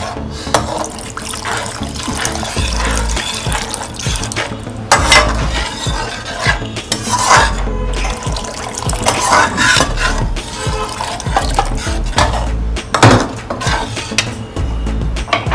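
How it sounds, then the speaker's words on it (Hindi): A quarter litre of water is poured into a meatball curry pot and stirred, giving splashing, bubbling and clinks of a utensil against the metal pot, loud and close throughout. "क्वार्टर लीटर ऑफ वाटर हम मिक्स कर रहे हैं।"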